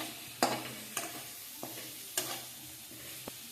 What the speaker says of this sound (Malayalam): തക്കാളി ഒന്ന് മൂപ്പിക്കാം.